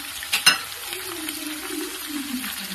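Dried red chillies and garlic frying in oil for a mango and ginger chilli pickle, a steady soft sizzle with a couple of brief stirring clicks near the start.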